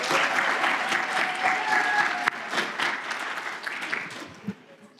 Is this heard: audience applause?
yes